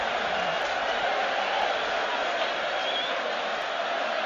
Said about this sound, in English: the crowd going absolutely wild